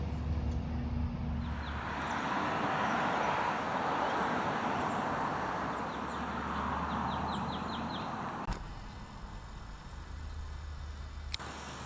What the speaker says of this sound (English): You can hear all the birds, a bunch of different squirrels running around.